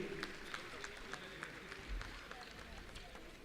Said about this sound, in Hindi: तो जोरदार तालियां इन बच्चों के लिए